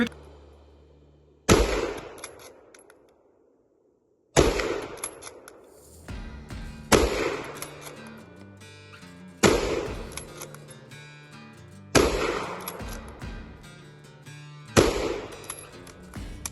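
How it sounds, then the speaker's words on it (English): A No.1 Mark III SMLE bolt-action rifle firing .303 British rounds outdoors, six sharp, loud shots spaced a couple of seconds apart, each followed by a decaying echo and the clack of the bolt cycling. "Now, this rifle is very fun to shoot. The recoil I didn't find bad at all for a 303 cartridge."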